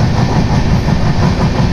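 Dhauli Superfast Express (12821) running from Shalimar toward Puri, a steady loud rumble of wheels on rails with continuous rolling rattle throughout, no voices.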